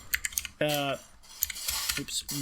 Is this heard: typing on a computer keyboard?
yes